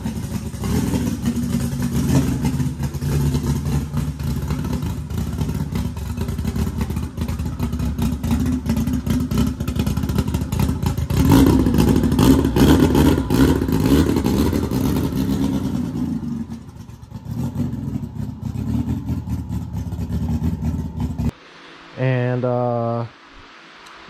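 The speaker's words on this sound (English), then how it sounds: "I got the car fired up on it." A car engine runs on a universal 4-cylinder wiring harness with an FT450 ECU. It holds a steady, loud idle, revs up in the middle, then settles back before a short break near the end.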